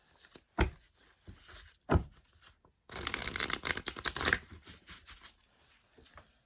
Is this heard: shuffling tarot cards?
yes